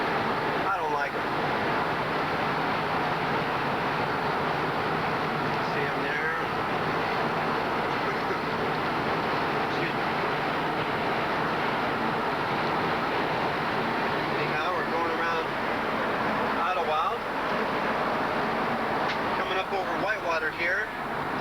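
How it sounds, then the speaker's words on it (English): Loud, continuous wind roaring and buffeting, with gusty rushing noise throughout and occasional faint voices underneath. "Boy, when it's windy, here is where it's mostly windy, right here."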